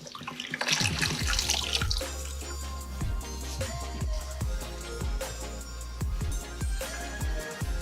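Tap water runs and splashes steadily while rinsing during perineal care, with a gush at the start, then a continuous close stream broken by small irregular splashes and drips.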